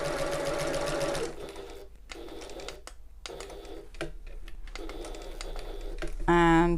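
A sewing machine runs steadily, stitching a tote bag seam, then pauses briefly as the needle pivots at the corners before running on again.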